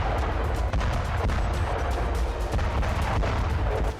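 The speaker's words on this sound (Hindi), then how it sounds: "एक विस्फोट के बाद इलाके में दूर दूर तक बम फैल जाते हैं और लगातार विस्फोट होते रहते" Rapid, overlapping blasts and booms from scattered bombs in a Ukrainian missile strike on Crimea go off continuously, a dense barrage of explosions with crackling bursts throughout, no pauses.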